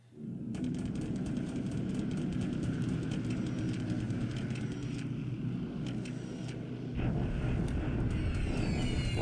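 Aircraft airstrike in the war game War in the Pacific, a loud steady engine drone with a rattling, clattering texture that swells toward the end, with no talk.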